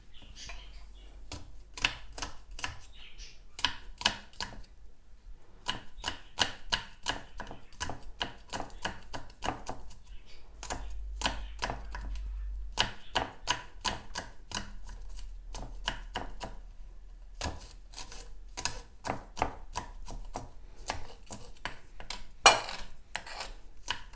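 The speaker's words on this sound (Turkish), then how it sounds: "3 diş samırsağımız var. Onları da ince ince kıyalım." Garlic cloves being finely chopped on a cutting board, a long run of quick, close knife taps in steady bursts with short pauses, no talking.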